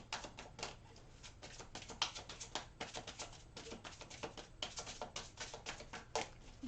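Deck of angel cards being shuffled close up: quick, soft papery riffles and flutters in rapid bursts, fairly faint and with no voices.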